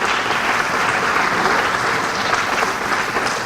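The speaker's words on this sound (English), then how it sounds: "So give a round of applause for that." An audience at a suicide prevention and awareness day event claps together in one sustained round of applause, dense and even from start to finish with no talking.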